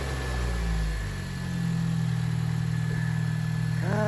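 A Volkswagen Jetta Variant 2.5 with a swapped-in TSI engine and DSG gearbox idles up close, giving a smooth, steady low drone that holds evenly throughout.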